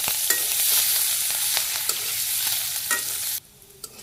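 Chopped onion crackles in hot oil with bay leaf, dried red chilli and cumin in a village kitchen, a bright, continuous sizzle with scraping stir strokes that cuts off abruptly near the end, leaving brief quiet.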